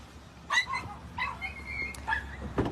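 A small schnauzer puppy at a south Texas border rescue whimpers and yips in thin, high cries. The cries are repeated and come close by over a low background hum.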